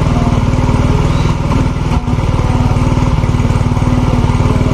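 A Yamaha Mio J scooter engine revs at high RPM close by, a loud steady buzzing drone with a fast even pulse, one brief dip in the middle, and no talking.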